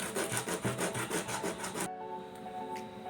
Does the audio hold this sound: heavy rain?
no